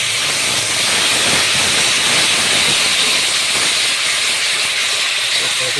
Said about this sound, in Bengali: এই যে আমাদের পেঁয়াজ আর রসুনের পেস্ট করা আছে, এটা দিয়ে দেবে